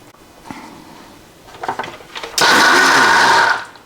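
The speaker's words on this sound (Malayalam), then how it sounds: "ഇത് ഞാനൊന്ന് മിക്സിയുടെ അകത്തേക്ക് ഇട്ടൊന്ന് ഒന്ന് അടിച്ചിട്ട് വരാം കേട്ടോ" After some kitchen clatter, an electric mixer grinder blending ragi smoothie ingredients roars on loudly for just over a second in a single short whirring burst, then cuts off.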